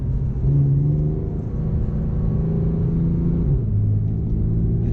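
Porsche 911 cruising smoothly back to the start after a U-turn on a slalom course, heard from inside as a steady low engine rumble and road hum with slight pitch shifts, close and continuous.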